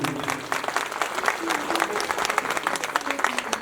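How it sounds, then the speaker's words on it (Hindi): An audience at a religious storytelling gathering claps in steady, dense applause that fills the whole moment, loud and close. "एक बार जोरदार ताली हो जाए आप लोगों के लिए।"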